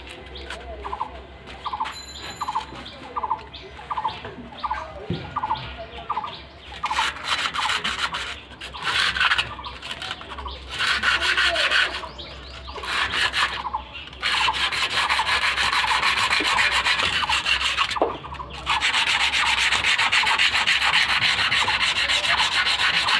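Sandpaper scrubs rust off a bicycle part: short rhythmic rubbing strokes at first, then long, loud, continuous abrasive scraping up close.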